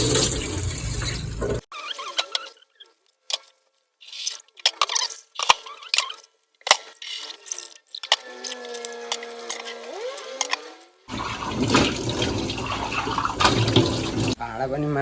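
Tap water gushes while dishes are washed by hand, with bursts of running water at the start and end and scattered clinks, splashes and dribbles between them, close and moderately loud.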